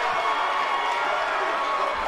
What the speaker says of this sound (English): Crowd getting behind Collins here in our opening match.